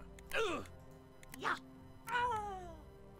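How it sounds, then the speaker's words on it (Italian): A cat in The Waylanders video game meows three times, each a clear drawn-out call, the last one longest, close and fairly loud with no talking over it. "Questo è un gatto."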